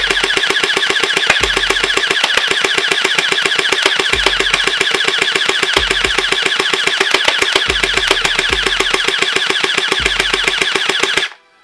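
A SplatRBall SRB370 gel blaster firing full auto, a loud, even, rapid mechanical clatter of shots at about seven per second, held for over ten seconds with brief low thumps, then stopping abruptly.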